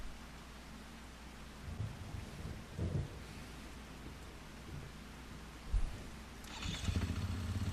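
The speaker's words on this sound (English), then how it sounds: "since it's raining" Rain and thunder in the video game Farming Simulator 25: a steady wash of rainfall with low thunder rumbles rolling in now and then, ending in a louder crackle, with no voices.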